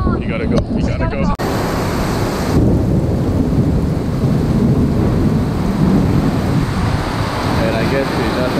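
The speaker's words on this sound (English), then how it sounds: "The rain's coming down" Heavy tropical rain pouring down on the Phi Phi Islands near Krabi, a loud continuous dense roar with thunder-like rumble and wind, steady throughout after an abrupt start.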